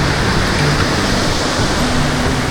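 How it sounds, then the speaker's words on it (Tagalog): Loud, continuous rushing surf fills the clip, a dense roar of breaking waves with no pauses, close and steady throughout. "grabe na yung laki na ng alon"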